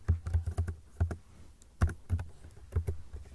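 Quick, uneven keystrokes on a computer keyboard while CSS code is typed, close and crisp, with short pauses between bursts and no talking.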